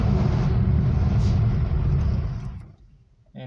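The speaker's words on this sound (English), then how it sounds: "you forgot your handbrake on and you're dragging your tires behind the car" A Mazda 626 pulls away in first gear with the handbrake fully on, tires dragging behind it. A loud, heavy rumble of engine and scrubbing road noise holds steady, then fades off.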